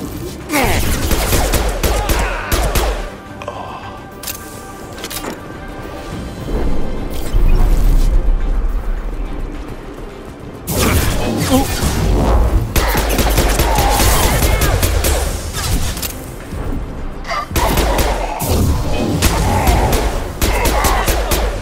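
Heavy gunfire rattles through a Mass Effect 2 video game battle in dense, loud bursts of rapid shots and booms. Brief lulls break the firing and faint voices sit underneath.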